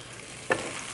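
Onion, tomato and chile sautéing in a pan give a soft, steady sizzle, broken midway by one brief scrape or stir of a utensil.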